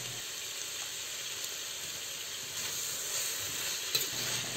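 Bitter gourd and pork with oyster sauce being stirred in a hot pan, with a steady close sizzle and faint scraping of the utensil running throughout.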